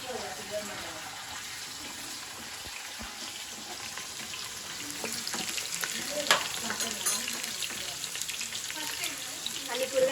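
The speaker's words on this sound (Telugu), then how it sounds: "ఆయిల్ వేడైంది ఆ ఉల్లిగడ్డలు వేసింది అలానే సొరకాయ ముక్కలు వేసింది" Chopped onions and bottle gourd pieces sizzle in hot oil in a pan, a steady close crackling hiss that grows a little busier toward the end, with occasional light clinks of utensils.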